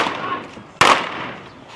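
One sharp, loud gunshot cracks out from a cowboy shootout video game set at the O.K. Corral. The blast stands alone against a soft background hum.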